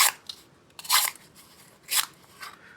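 A knife blade carrying some glue residue slices through cardboard, giving three crisp, scratchy cutting strokes close up, spaced about a second apart, with a softer fourth stroke at the end and no voices.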